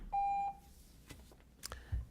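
A meeting speaking-time buzzer at a board of commissioners' session gives one loud, steady electronic tone lasting about half a second, followed by quiet room noise and faint shuffling.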